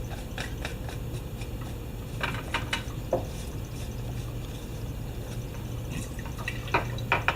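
Water rinsing the sample chamber of a pH meter, heard as a steady wash of liquid with scattered small drips and splashes at close range, no voices.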